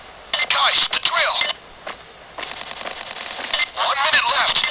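Drill whirring during a safe heist in the mobile video game Pay Day Crime War, coming in harsh bursts with gaps, mixed with game effects and other noise under loud action.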